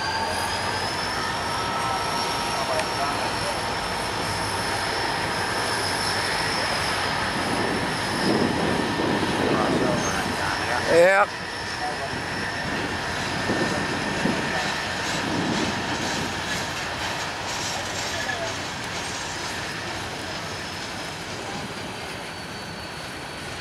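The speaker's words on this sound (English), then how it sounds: "How long this train is." A long train rumbles steadily past on the tracks, a continuous roar with faint rhythmic clatter and a sharp knock midway; one short spoken word.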